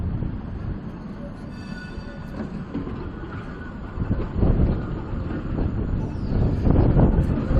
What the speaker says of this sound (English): You can see way down there's a yellow tram going by.